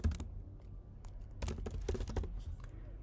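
Typing on a computer keyboard: quick irregular clusters of key clicks, close and fairly quiet, with short pauses between bursts.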